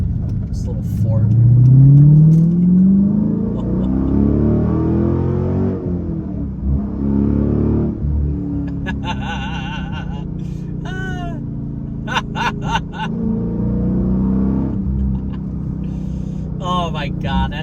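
A throaty Dodge Challenger SRT8 engine rises and revs hard, roaring up through the gears as people talk excitedly over the noise.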